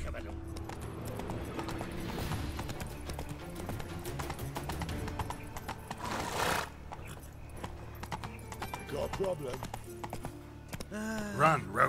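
Roach the horse gallops in The Witcher 3: Wild Hunt next-gen edition, with fast rhythmic hoofbeats throughout, a whinny partway through and a snort near the end.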